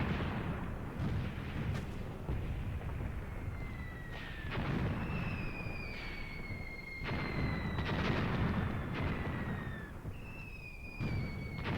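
Distant artillery and gunfire from Graviteam Tactics at Vinyagolovo roll across a battlefield as repeated heavy thumps over a steady rumble, with whistling shells descending in pitch between the impacts.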